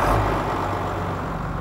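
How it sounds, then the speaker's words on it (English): Tractor engine started briefly and left idling: a steady low diesel rumble with a deep throbbing hum, loud and close, running evenly without talk. "we're just going to start the tractor up briefly"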